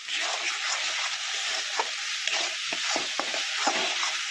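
Salt, chili powder, turmeric and cumin sautéing in hot oil for an egg paturi, a close, bright continuous sizzle with repeated scrapes and taps of a spatula stirring the spices.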